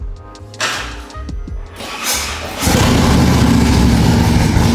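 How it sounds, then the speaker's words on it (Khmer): A 2019 Harley-Davidson Street Glide motorcycle is started up: a few clicks and a short crank come first, then the engine catches partway through and settles into a loud, close, steady rumble that runs to the end, with no talking. "តោះឥឡូវខ្ញុំចាប់ដើមបញ្ឆេះសលេងម៉ូតូឲ្យអ្នកនរគ្នាស្ដាប់"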